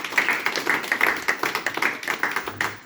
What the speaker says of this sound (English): So round of applause for Jatinder.